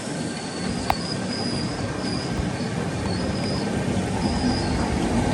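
The Deccan Queen Express rumbles along steadily and close through rocky cuttings, a continuous clattering roar with a brief faint squeal of wheels, no voices.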